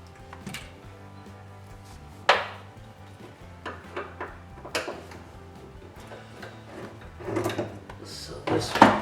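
Plastic door trim piece pulled off the door of an MK3 Supra: a few sharp clicks and snaps, one louder pop among softer knocks and rustles, close by, with someone talking in between.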